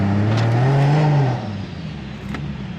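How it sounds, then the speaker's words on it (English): A single-turbo BMW F80 M3 on a drive revs up with a rising engine and turbo note, then backs off into a quieter cruising drone, heard from close by with no talking. "the sounds on the single turbo car are absolutely insane"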